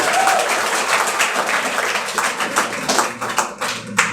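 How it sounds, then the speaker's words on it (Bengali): An audience at a Mission Job gathering with Samir Sir clapping loudly, a dense, sustained wash of applause from many hands that carries on steadily for about four seconds. "থ্যাংক ইউ জোরে হাততালি"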